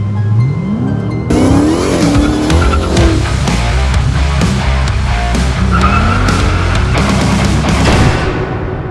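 A Dodge Challenger Hellcat SRT's 700-plus horsepower engine roars and revs continuously while tires squeal in drawn-out screeches, loud and close throughout.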